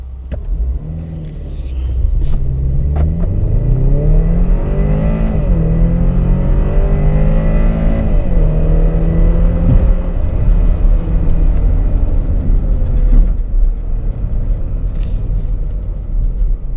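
A 2018 BMW X5 xDrive40e plug-in hybrid pulls away from a standstill, its engine drone rising through several gear changes under a constant low road rumble, heard loudly from inside the cabin with no talking.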